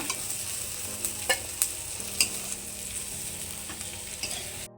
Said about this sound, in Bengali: কড়াতে তেল দিয়ে মাছগুলোকে আমি একটু ভেজে নেব